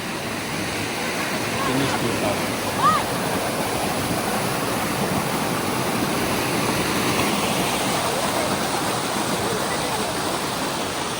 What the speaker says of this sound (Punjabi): ਉਧਰ ਵੀ ਕਿੰਨਾ ਤੇਜ਼ ਪਾਣੀ ਹੈ